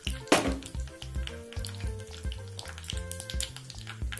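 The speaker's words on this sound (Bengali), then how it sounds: "তেলটা গরম হয়ে গেলে এর মধ্যে দিয়ে দেবো 7 গোটা জিরে আর দিয়ে দেবো একটু সর্ষে" Cumin, mustard seeds and dried chillies fry in hot oil with a steady, soft sizzle. A brief louder crackle comes early, and music plays throughout.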